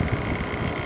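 An LG 6000 BTU window air conditioner, model LW6016R, runs close by with a steady, even whooshing hum of blowing air and fan noise, unbroken throughout.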